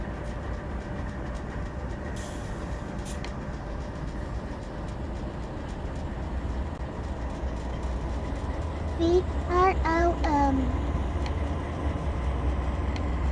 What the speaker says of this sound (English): This train is full of steam and ready to roar.